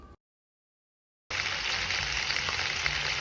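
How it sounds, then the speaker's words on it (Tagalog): Lapu-lapu (grouper) fish frying in hot cooking oil, a steady loud sizzle that starts abruptly after a short silence and holds close and continuous to the end. "Let's prito!"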